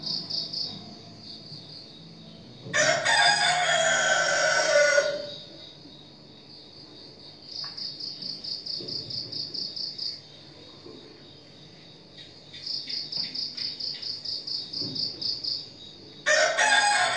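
A rooster crows loudly twice, once early and again at the very end, over steady pulsing chirps of crickets that continue throughout a quiet night scene during a Good Friday service.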